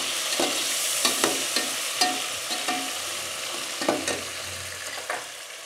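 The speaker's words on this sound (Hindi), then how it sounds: "अब हम ये गोश्त डालेंगे, इसको थोड़ा सा भूनेंगे" Mutton pieces frying with browned onions for yakhni pulao: a continuous close sizzle with repeated spoon stirs and scrapes against the pot.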